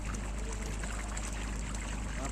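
Water runs from a household pipe in a steady, close, unbroken trickling flow with a constant low rush underneath.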